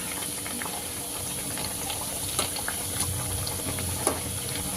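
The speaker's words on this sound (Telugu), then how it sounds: "ఇలా వడలన్నీ టూ సైడ్స్ బ్రౌన్ కలర్ వచ్చే వరకు డీప్ ఫ్రై చేసుకోవాలి" Cabbage masala vadas deep frying in hot oil, a steady dense sizzle and bubbling with a few soft pops rising out of it, constant and close throughout.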